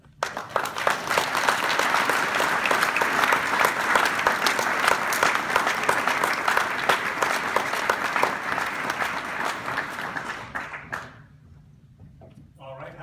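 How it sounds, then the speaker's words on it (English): Loud applause from a crowd fills the room after a speech at a University of Tennessee Vols baseball event, sustained for about ten seconds before dying away into quiet near the end. "how about one more round of applause for Augie Garrido."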